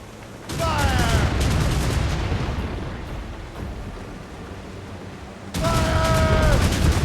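Ship cannons thunder in a naval battle from the game Assassin's Creed Rogue, one long volley of massed booms rolling and fading over several seconds, then a second loud barrage near the end, with shouting voices over each salvo.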